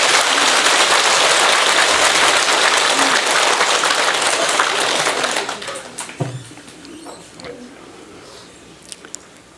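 Loud, dense applause from a large audience at a Buddhist dharma talk, steady for about five seconds and then stopping abruptly, leaving scattered claps, bumps and quiet room noise.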